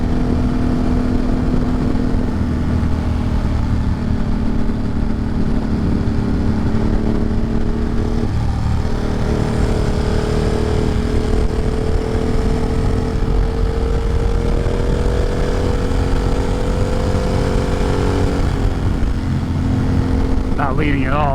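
A motorcycle drones steadily along a twisty forest road, its engine close and continuous with gentle pitch shifts, mixed with wind noise and a rider talking over it.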